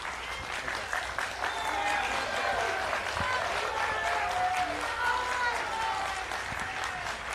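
An audience at a congressional candidates' forum claps steadily for the candidates, a broad, even wash of applause with voices mixed underneath.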